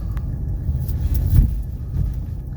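A 1985 Mercedes 300D diesel, already warm, drives along with a low steady engine rumble and road noise from inside the car, swelling briefly in the middle before settling back.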